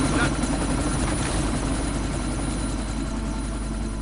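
Helicopter in the video game Deus Ex, a steady, loud rotor and engine drone holding level throughout with no letup.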